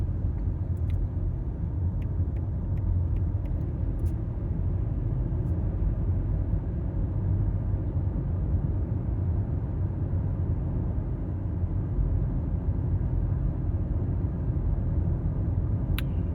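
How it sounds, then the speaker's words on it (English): A Toyota Camry cruising on Highway 674 toward Rock Springs: a steady, loud low tire and road rumble inside the cabin, with a few faint ticks and no voices. "I'm gonna post this video so y'all can tell me what you think about the road noise and stuff"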